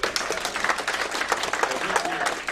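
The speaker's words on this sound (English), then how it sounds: "Let's get a round of applause for that guy" A crowd at a CFL All Stars football clinic claps steadily for a state champion football player, dense continuous applause with some voices mixed in.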